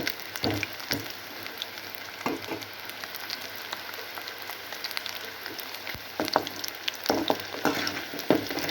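Prawn pakoda deep-frying in hot oil gives a steady, close sizzle with scattered sharp crackles and pops throughout, and no voices.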